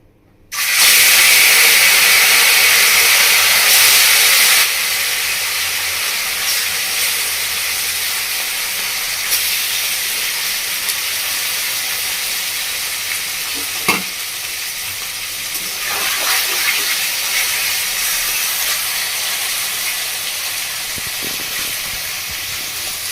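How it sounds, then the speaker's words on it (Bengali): Fish frying in hot oil seasoned with salt and turmeric for a Bengali chuno fish curry, a loud steady sizzle that bursts in at the start and then hisses on evenly with occasional pops and crackles, no voices. "মাছটা দিয়ে দিয়েছি ভাজতে"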